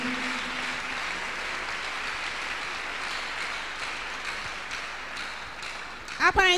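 Steady applause from a congregation at a Tuesday miracle service, a broad, even wash of clapping that holds for several seconds before a brief sharper burst at the end.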